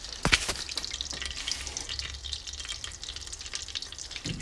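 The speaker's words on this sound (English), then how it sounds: "Now I'm going to pour this butter on there." Melted butter poured over dry cake mix for a dump cake, giving a soft continuous sizzling, frying-like hiss with a few sharper clicks near the start, steady and fairly quiet throughout.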